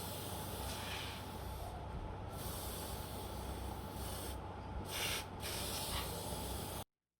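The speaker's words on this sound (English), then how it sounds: "I used dry contact cleaner and sprayed it across the motherboard to help remove any remaining contaminants." Dry contact cleaner sprayed across a TV motherboard, a loud continuous aerosol hiss with a few brief pauses, close up and alone, cutting off abruptly at the end.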